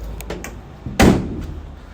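Rear doors of a 2022 Vauxhall Vivaro-e Elite Doublecab electric van opening, with a few light clicks followed by a single loud, close thunk as a door swings fully wide, then fading rustle.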